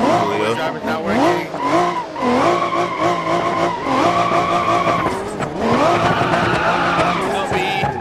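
Loud, continuous engine roar with squealing tires and skidding from a car in the BeamNG.Drive driving game during a police chase, the pitch swooping up and down as it accelerates and slides.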